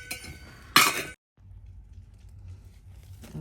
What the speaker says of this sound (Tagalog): Hugasan muna natin ang mga pinggan.